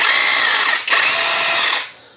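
A HEIMERDINGER LB169 3.2 J cordless rotary hammer spins in rotation-only mode without impact, giving a loud, steady high whir that dips briefly once, then picks back up before winding down to a stop.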